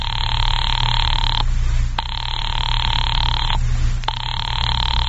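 An old-time 1940s radio drama telephone rings in long, loud electric bursts, three rings separated by short gaps, alone and close with no talk.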